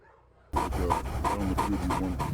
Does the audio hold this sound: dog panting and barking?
yes